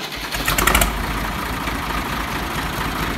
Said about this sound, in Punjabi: ਸਲੰਸਰ ਆਪਾਂ ਲਾ ਲਿਆ ਅਤੇ ਇਹਦੀ ਆਵਾਜ਼ ਸੁਣਾਉਂਦੇ ਸਾਨੂੰ ਸੁਣਾਓ ਵੀਰੇ ਚਲਾਓ